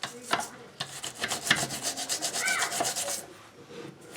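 An old knife scrapes mineral buildup from the edges of a bathroom faucet, making a quiet series of close, rhythmic rasping strokes with a few sharper scratches.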